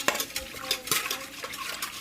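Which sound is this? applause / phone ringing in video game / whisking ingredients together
whisking ingredients together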